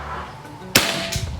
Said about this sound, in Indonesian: Lanjut tembakan kedua.